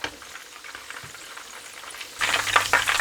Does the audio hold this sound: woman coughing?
no